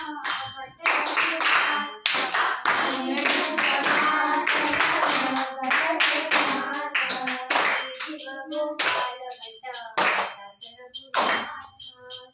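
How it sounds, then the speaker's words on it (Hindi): Children at a Sunday gurukul clap their hands in a steady rhythm alongside group chanting and singing, the sharp claps loud and continuous throughout. "ताली बजाओ ताली"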